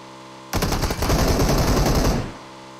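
Sustained automatic gunfire in the mobile shooter PUBG Mobile, a loud, dense burst of rapid shots lasting about two seconds before cutting off.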